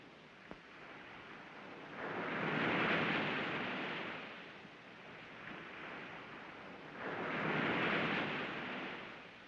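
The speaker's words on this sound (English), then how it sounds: "You like the sound of the ocean?" Ocean waves in a 1945 crime film soundtrack: two soft, distant surges of surf swell and recede in a slow rhythm over a low, hissing background.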